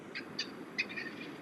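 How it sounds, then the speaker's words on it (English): Soft, distant owl hoots, a few short calls spaced apart over a low outdoor rumble in the Iowa countryside during turkey season. "I hear that owl hooting."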